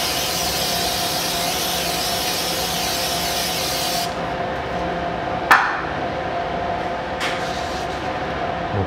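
Aerosol can of Fluid Film spraying a steady hiss onto the hub face of a 1990 Buick LeSabre during a disc brake job, loud and continuous for about four seconds before stopping, followed by a few sharp clicks and taps.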